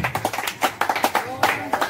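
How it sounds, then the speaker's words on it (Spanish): A church congregation gives a short burst of clapping during a service, quick uneven claps close by with voices mixed in over them. "Denle un aplauso a Cristo y puede sentarse."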